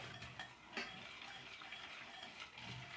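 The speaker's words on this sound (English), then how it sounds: "But you want to go on medium heat, and we'll be stirring this constantly." Chocolate cream pie filling made with milk and eggs is stirred constantly in a pot over medium heat, giving a steady scraping, ticking texture that stays fairly quiet and continuous, with no talking.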